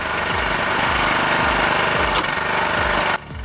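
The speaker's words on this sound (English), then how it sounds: "The Porsche Splitmaster 9T is designed for professionals who demand power, efficiency, and reliability." A Posch Splitmaster 9T firewood log splitter runs loud and steady with its dedicated engine, a rhythmic low chugging pulse throughout that drops off sharply just before the end.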